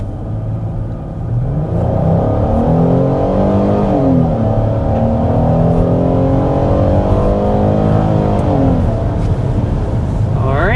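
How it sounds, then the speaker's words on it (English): A 2027 Chrysler Pacifica minivan accelerating hard toward 60 mph, its engine rising steadily in pitch through the gears with a sustained, close drone and rolling road noise for most of the span. "we need to go ahead and start with a hard acceleration"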